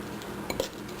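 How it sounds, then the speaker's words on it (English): A spoon stirs oatmeal made from instant packets in a bowl, giving two brief, close scraping clinks against the bowl over a quiet background. "Stir that up a little just to mix it"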